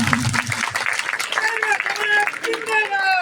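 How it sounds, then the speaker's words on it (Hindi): A crowd applauding to welcome a deputy chief minister at a community day event, clapping and cheering mixed with a loud voice and chanting over it. "जोरदार ताली बजाइए साहब"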